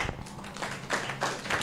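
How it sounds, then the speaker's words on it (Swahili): Children clapping during a children's session at a child protection conference in Africa, a short run of scattered, fairly soft claps from a small group, with a few louder bursts toward the end. "Haya, makofi."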